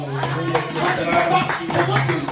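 A church congregation claps in acclaim, a dense burst of many hands close by, mixed with voices and the preacher speaking over it.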